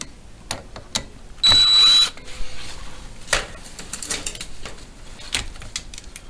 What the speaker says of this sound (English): let me just tighten them almost all the way with my drill